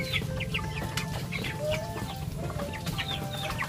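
Chickens in a small poultry cage on a backyard farm, clucking and chirping in quick overlapping calls, close and continuous with a low background hum.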